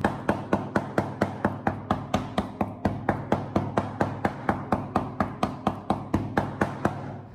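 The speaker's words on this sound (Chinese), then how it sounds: "将猪肉全部切小以后，接着再用菜刀给它剁一下" A kitchen cleaver chops pork into mince on a cutting board, about two dozen sharp, evenly spaced thuds in a steady rhythm, close and clear with no talking.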